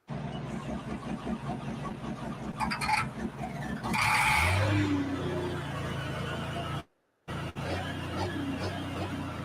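A pulling tractor at a Texas pulling event fires up and drives along the track, its engine a dense roar that rises into a loud surge midway, with a brief dropout near the end and no clear talk.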